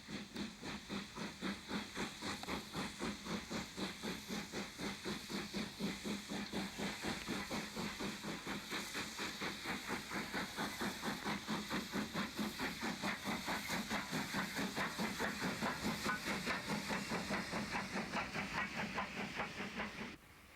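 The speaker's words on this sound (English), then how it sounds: "number 30065 leaves Northiam station, which is en fête for the occasion, and crosses over the A28 Hastings Road" Steam locomotive 30065 pulls away from a decorated Northiam station over the A28 Hastings Road, its rapid, steady exhaust beats chuffing loud and close with continuous hiss throughout.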